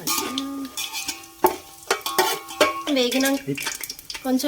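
Whole pepper, cardamom and bay leaves for biryani sizzle in hot oil in a pot, with a spoon stirring and scraping against the metal in sharp repeated clinks over the steady frying hiss.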